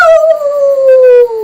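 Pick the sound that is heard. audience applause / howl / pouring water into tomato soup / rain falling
howl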